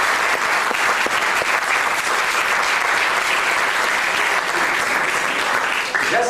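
Dense, sustained applause from an audience, many hands clapping together at a steady roar for several seconds, tapering slightly at the end.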